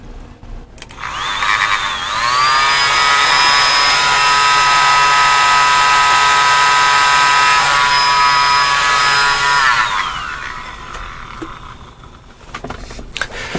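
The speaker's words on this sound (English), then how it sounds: "So like technically this is a compressor, but let me hook this up so you see how loud it is." A DIY CPAP blower compressor at half speed, about 10,000 RPM, spins up with a rising whine, holds a loud, steady high-pitched tonal scream for several seconds, then winds down.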